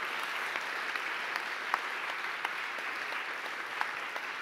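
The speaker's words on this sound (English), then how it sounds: "I'd like to give all the teams a round of applause." A round of applause for competing teams, steady dense clapping from a modest-sized audience at a moderate distance, holding evenly for several seconds with a few sharper individual claps standing out.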